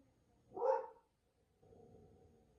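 A dog barks once at neighbouring kids next door, a single muffled woof from indoors followed by quiet room noise.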